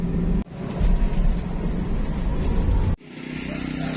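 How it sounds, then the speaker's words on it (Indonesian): A 2004 Toyota Avanza engine revs hard at about 60 km/h, a loud, close rumbling drone with two sharp drops where the throttle eases before it picks up again. "Ini saya geber ya mobilnya ya di kecepatan 60 km per jam"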